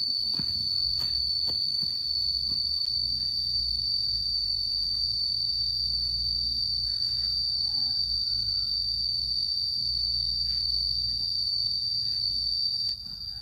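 Steady, loud high-pitched cricket chirping fills the scene continuously, with a low rumbling background hum underneath and a few faint clicks.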